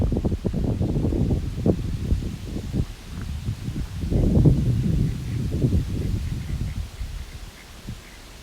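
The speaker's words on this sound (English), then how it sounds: "I think you can hear how gusty the wind is here." Gusty wind in an open parking lot buffets with rumbling bursts that swell and ease over several seconds, loud and close with a rough, rustling texture.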